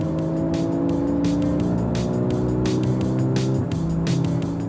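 A Porsche 911 engine roars continuously, loud and close, its pitch sliding up and down with revving and a hint of tire noise.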